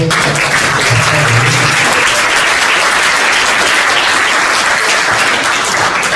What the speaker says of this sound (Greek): Ένα χειροκρότημα για τον κύριο Αλεξόπουλο.